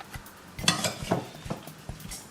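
Apple strudel filling is spooned into pastry in a small kitchen, with soft scraping and clinking taps of a utensil against a dish at an irregular pace, faint and close up.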